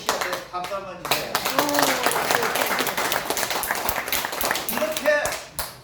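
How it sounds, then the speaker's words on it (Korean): An audience at a Daejonggyo religious lecture breaks into applause, a burst of scattered clapping that swells and then fades, with a voice speaking over and after it. "우리 책임있게 시합에 박수 한번 주세요"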